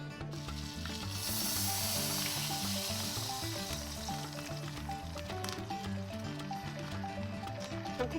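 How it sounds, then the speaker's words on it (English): Morel mushrooms simmer in melted butter in a small pot at a canoe-trip campsite, giving off a steady, fairly loud sizzle that fills the whole clip over a layer of tonal, music-like sound. "I've got some butter here in the little pot and I'm going to melt that, and then I'm going to put the mushrooms in there and simmer them"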